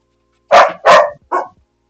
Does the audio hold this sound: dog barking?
yes